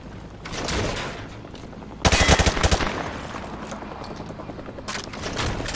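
Rapid bursts of automatic gunfire in the video game Modern Warfare 2 punch through light cover. There are several loud clusters of shots, the strongest around two seconds in, with echoing rumble and distant firing in between.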